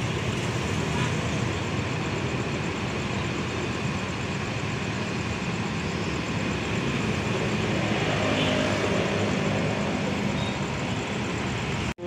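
Pantas Harapan Jaya intercity bus at the exit of Purabaya (Bungurasih) bus terminal in Surabaya at night, a continuous broad engine and traffic rumble with steady roadway noise, fairly distant and unchanging for the whole stretch.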